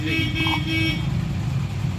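Road traffic on a route under repair, with pipes being laid for new road works, brings a car horn sounding through the first second over a constant low vehicle rumble, with voices mixed in.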